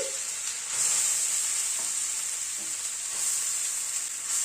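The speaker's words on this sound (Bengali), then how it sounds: "ঘিটা গরম হয়ে গিয়েছে, গাজরটা দিয়ে দিচ্ছি।" Carrots sizzle and fry in hot ghee for a carrot halwa dessert, a steady crackling hiss that holds close and even throughout, with no voices.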